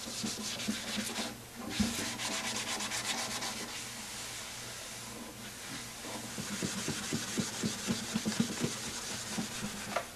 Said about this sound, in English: strokes with the grain in the final sanding